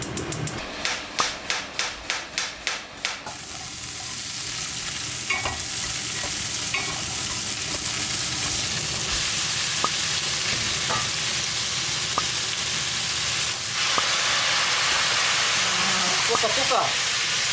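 Noodles being stir-fried in a pan at home, a loud continuous sizzle and hiss after a quick run of rhythmic clanks at the start, with sporadic scrapes and taps throughout and no talk.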